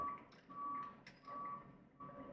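A construction truck reversing across the street emits evenly spaced electronic beeps, heard faintly at a distance with steady background noise between them.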